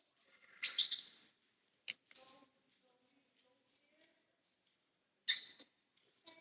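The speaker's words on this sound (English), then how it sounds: "And the birds are welcoming me with a song." Small caged birds chirp and sing in a public square, several short bright bursts of twittering scattered across quiet, fairly faint ambience.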